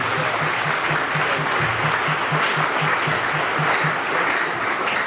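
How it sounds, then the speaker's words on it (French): Church congregation applauding during a French worship service, steady dense clapping filling the whole stretch at an even level, with a faint regular low pulse beneath. "On applaudit,"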